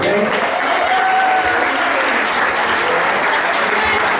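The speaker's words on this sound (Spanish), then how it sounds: "Yo quiero que demos un aplauso a todos." Sustained applause from a large audience, loud and steady throughout with a dense crowd texture.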